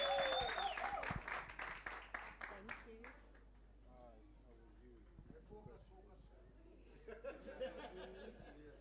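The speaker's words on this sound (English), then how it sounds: "can we give her a round of applause, Victoria?" A workshop audience bursts into applause and chuckles, sharp clapping for about three seconds that trails off into scattered claps, with a voice speaking over the clapping and a faint steady whine in the background.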